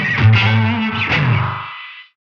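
An electric guitar is played through a NUX Atlantic pedal set to eighth-note delay, a short distorted phrase whose quick repeats smear together before cutting off abruptly.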